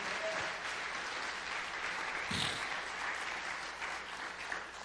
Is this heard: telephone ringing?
no